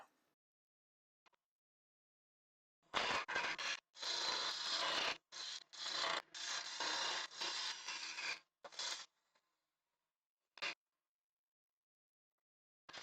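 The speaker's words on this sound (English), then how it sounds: "I've decided to finesse that using a spindle gouge and try and get the shape a bit better." A spindle gouge shapes a wooden Christmas bauble spinning on a lathe, giving loud close scraping, rasping cuts in bursts of one to two seconds with brief pauses, then a final short cut after a gap.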